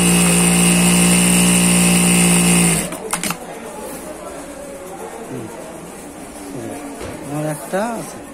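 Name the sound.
Jack A4E-Q industrial sewing machine running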